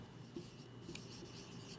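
A pen scratches across paper in short, faint strokes while figures are written during a tutorial, close and quiet with a steady hum underneath.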